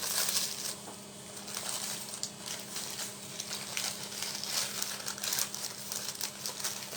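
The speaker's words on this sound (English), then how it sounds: "And then we are going to peel this one off the parchment" Meringue layer being peeled away from parchment paper, giving a steady, close crinkling and crackling of paper with small crisp snaps throughout, fairly quiet and without talk.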